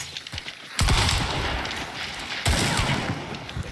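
Gunfire in the shooter game Hunt: Showdown, two loud blasts ringing out sharply with reverberant tails, the second about a second and a half after the first, over a low background of game ambience.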